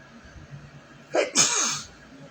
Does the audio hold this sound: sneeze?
yes